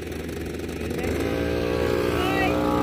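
A motorcycle passes on a farm road: a steady engine drone that swells and grows louder over a few seconds, heard from outdoors.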